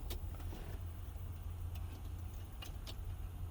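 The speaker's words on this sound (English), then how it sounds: "you're going to start the truck up, turn the key on to the right, and push the button next to it" A truck engine idles steadily after being started with the key and a push button, a low continuous rumble running through the whole stretch with faint clicks and hisses above it and no talking.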